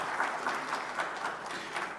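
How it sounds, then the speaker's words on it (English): An audience at a financial-institutions forum panel gives a round of applause, steady and even clapping from many people heard fairly faint and distant throughout. "A round of applause, please."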